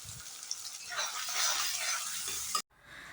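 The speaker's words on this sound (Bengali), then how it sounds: "পেঁয়াজ লাল করে ভেজে নিতে হবে।" Finely chopped medium onions frying in a pan for a Bengali chicken curry, a steady close hiss and sizzle with faint stirring that cuts off abruptly near the end.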